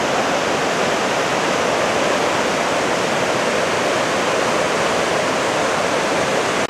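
The Ohanapecosh River rushes loudly over rocks near Silver Falls at Mt Rainier National Park, a dense, constant roar of churning whitewater heard up close with no voices.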